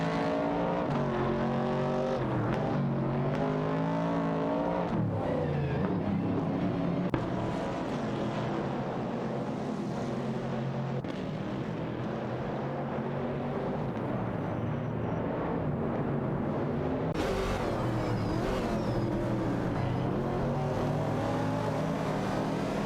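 Racing cars in an AI racing video game, a 1969 Chevrolet Camaro and a 1970 AMC Javelin battling for position, with a steady dense engine drone and shifting revs running throughout, layered with music-like tonal bands.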